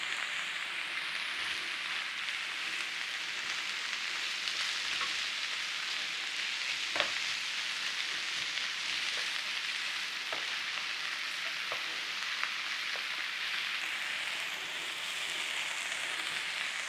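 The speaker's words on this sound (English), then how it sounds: "just saute those onions" Onions seasoned with black pepper sauté gently in a pan for a Kentish cheese casserole, giving a continuous close sizzle with occasional light clicks of stirring and no speech.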